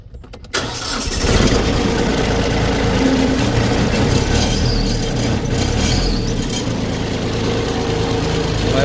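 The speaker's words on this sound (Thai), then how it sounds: "เดี๋ยวฟังเสียงเครื่องยนต์หน่อย" A 2018 Kubota B2440S tractor's diesel engine cranks over, catches, and settles into a steady, rumbling idle close by, running continuously.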